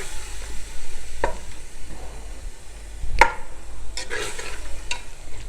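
Minced meat keema with okra stirred and frying in oil in a pan, a low steady sizzle broken by scraping stirs and a few sharp clanks of the spoon against the pan.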